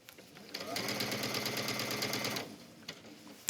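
A sewing machine runs a steady rapid stitching burst for about two seconds while hemming a wrap dress with a rolled hem, close and clear, then stops, followed by a few faint handling clicks.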